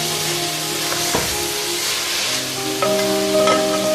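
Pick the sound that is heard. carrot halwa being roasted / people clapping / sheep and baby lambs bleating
carrot halwa being roasted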